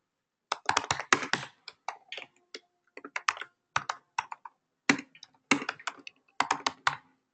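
Steady bursts of computer-keyboard typing while code is entered, clicks coming in quick clustered runs with short pauses between, close and fairly quiet, with no voice over them.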